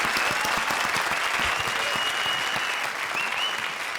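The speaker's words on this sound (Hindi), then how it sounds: "तो जोरदार तालियां प्रिंस और वीआईपी के लिए।" Studio audience applause on a Hindi TV comedy show, a dense, even roar of clapping hands with a few faint whoops, steady and full for the whole stretch.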